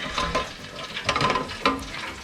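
Ribeye steaks deep frying in hot oil under a lid give a steady close crackle and sizzle, with a few brief clatters of metal over the bubbling.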